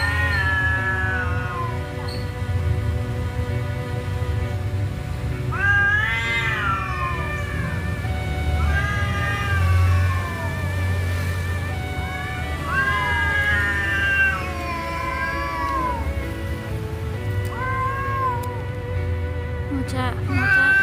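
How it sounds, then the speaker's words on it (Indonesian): An angry orange cat yowls and caterwauls in long, rising and falling drawn-out cries, repeated several times close by outdoors in a garden, over a low steady background hum. "Mocha, Mocha, Mocha, Mocha jangan marah-marah Mocha."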